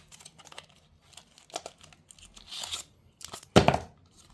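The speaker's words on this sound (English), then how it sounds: "And now unpacking the battery." Packaging for a DJI Osmo Action battery crinkles and tears in short, close bursts, one sharp rip loudest near the end, with quiet gaps between.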